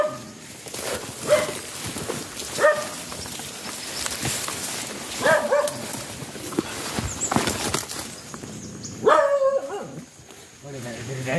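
A dog barks several times in an outdoor setting, with short sharp yelps scattered through the clip, mixed with people talking and background activity.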